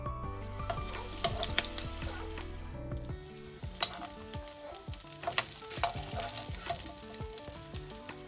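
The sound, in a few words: hilsa fish eggs frying in oil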